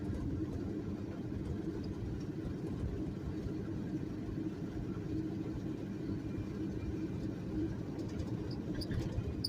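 A car engine idling in fourth gear while coasting downhill, a steady low rumble that holds evenly throughout, with faint bird calls in the background.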